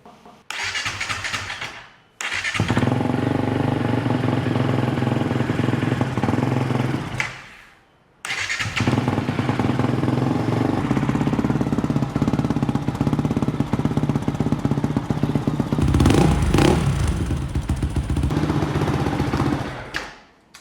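A loud motorcycle engine with an aftermarket exhaust fires up and runs with a throaty rumble, cuts out, restarts, and gets revved harder near the end.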